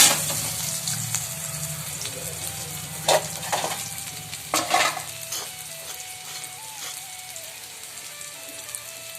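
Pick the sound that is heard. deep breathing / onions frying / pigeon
onions frying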